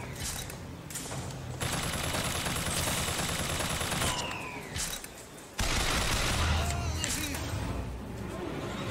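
Enemy gunfire in the video game BioShock Infinite rattles in loud, near-continuous automatic bursts, briefly easing midway before surging back at full intensity, with mechanical clicks and occasional heavier impacts mixed in.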